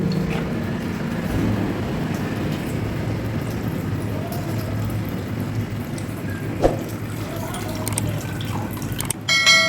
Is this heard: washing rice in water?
yes